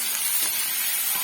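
Onion, green chili and ginger sizzle as they sauté together in a pan, a steady close hiss of frying with no voices.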